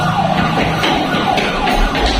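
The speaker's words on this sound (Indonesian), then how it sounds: "Tiba-tiba suara sirene polisi berbunyi" A police siren wails steadily, loud and continuous, filling the scene with its rising and falling electronic tone.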